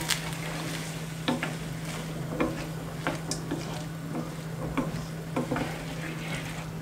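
Taco spice mix being stirred into water in a pan, with repeated scraping and sloshing strokes at an uneven rhythm over a steady low hum, close by and with no talk.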